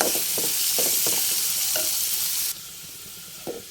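Ground sesame and chickpea powder frying in a pan: a loud, close sizzle with rhythmic scraping stirs that suddenly drops away to near quiet, followed by one last clink.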